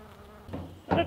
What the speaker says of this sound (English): There's like bees everywhere.